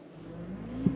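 A 2022 Mercedes EQS 580 electric car plays its artificial rev sound in a different tone: a brief, faint synthetic hum that swells upward, heard alone.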